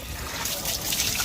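Water trickles and splashes steadily into a bucket being filled for compost at home, a continuous close splattering flow with faint background talk.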